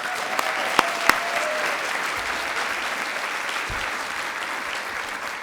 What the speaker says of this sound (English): let's give a big round of applause for School Library Journal for hosting this